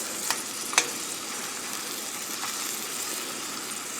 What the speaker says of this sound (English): So we want to do this quickly because we don't want to overcook the shrimps.